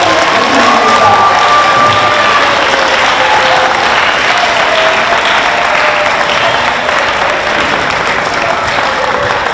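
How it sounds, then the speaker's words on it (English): Sustained, loud applause from a school geography bee audience, steady clapping throughout with some cheering mixed in. "Let's give them a round of applause."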